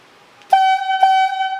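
Two long blasts from a highlead logging whistle signal the rider block, each a strong sustained harmonic tone, loud and close with no voices.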